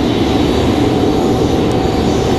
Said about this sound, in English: Breeze making that turn on final for our side